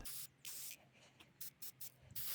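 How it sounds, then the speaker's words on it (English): Several short bursts of black primer from an aerosol spray can, each a sharp hiss lasting a fraction of a second, with brief quiet gaps between them, close up. "notice how I'm spraying each little spot instead of using wide sweeps"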